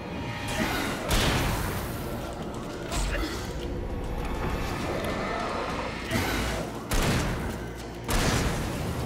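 Repeated deep booms and crackling bursts of fireworks in the game Alan Wake, several loud blasts spaced irregularly over a continuous rumbling background.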